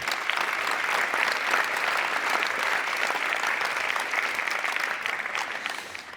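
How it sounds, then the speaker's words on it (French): Audience applause welcoming an artist at an artistic interlude; sustained, dense crowd clapping at a steady level for several seconds, slowly tapering at the end, with no talking over it. "Nathalie Folcher, merci de l'applaudir."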